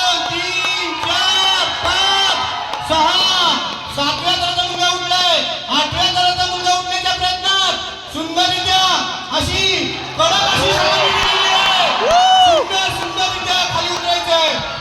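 Crowd at a Govinda human-pyramid event in a town square, a loud, sustained wash of shouts and whoops with a prominent voice calling out over the noise.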